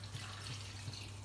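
Tap water runs steadily into a pot to cover potatoes for an artichoke cream soup, a continuous close hiss and splash with a low steady hum beneath and no talking.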